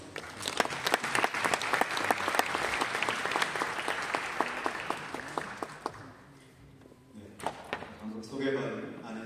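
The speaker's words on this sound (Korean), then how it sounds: "나오실 때 박수 부탁드립니다." Audience applause for a church history professor introduced before a lecture on Presbyterian and Methodist social service, dense clapping filling the room for about six seconds, then fading into quieter hall noise with a few scattered claps.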